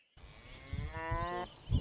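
A cow gives a single clear moo outdoors, rising steadily for about a second, with faint background noise and a brief thump afterward.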